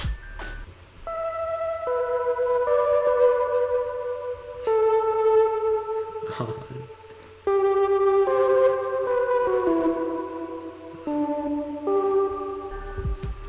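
Saturated kawaii-style synth melodies play in bright, stepping note lines over a steady low bass, with a few percussive hits and a brief drop near the middle before the tune resumes, loud and continuous with no voices.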